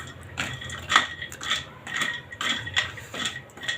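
A utensil scrapes and clinks against a pan in a steady rhythm while seeds and nuts are stirred as they dry-roast for homemade protein bars, close and moderately loud.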